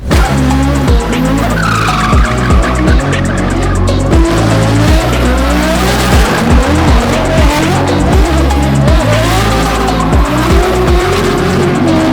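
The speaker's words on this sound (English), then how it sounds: "So now we're going to the drift track." Cars drift around the Ultrace drift track, tires squealing in long wavering shrieks over loud, steadily droning engines, with repeated rhythmic pulses of revving close by and no talk.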